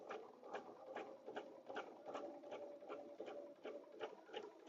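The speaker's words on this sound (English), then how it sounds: "here's where my triangle ends, so I'm stitching way beyond that line" Sewing machine stitching a placemat, a faint, quick, steady rhythmic patter of needle strokes running continuously.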